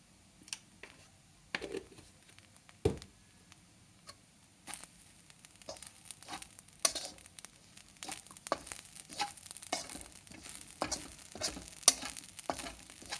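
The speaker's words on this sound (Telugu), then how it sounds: "అడగంటకుండా ఇలాగే కలుపుతుండాలండి" A spoon scrapes and knocks steadily around a pan as coconut laddu mixture is stirred with milk powder, giving quiet irregular clicks and soft sizzling taps close by.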